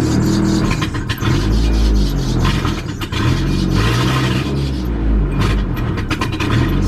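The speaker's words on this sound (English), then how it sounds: "We're going to step on the gas to start this up." A 2002 Kia Optima engine, diagnosed with a low mass airflow sensor input, revs repeatedly as the gas pedal is pressed, rising and falling in loud close surges.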